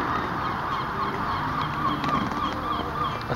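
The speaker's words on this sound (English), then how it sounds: "A seagull." A seagull calls repeatedly at Cape Cod, harsh honking cries over a parking lot, fairly loud and close against a constant outdoor background.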